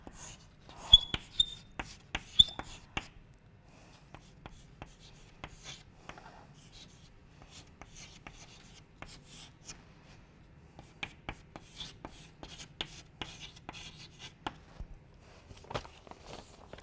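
Pen or chalk strokes writing a fluid-dynamics momentum equation by hand, a rapid run of scratchy taps and rubbing strokes that comes in bursts across the whole stretch, close and fairly quiet, with no voices.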